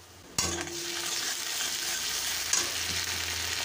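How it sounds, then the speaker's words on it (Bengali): Ginger and garlic paste dropped into hot oil with browned onions, bursting into a sudden loud sizzle that holds steady with a faint stir or two, close up and without any talking. "আদা রসুন ভালোভাবে ভেজে নেব।"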